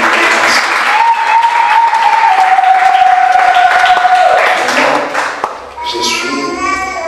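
A church congregation at a Paris evangelical gathering breaks into sustained applause and cheering to acclaim the Lord, loud and continuous, with a sustained tone over it and a voice cutting in near the end.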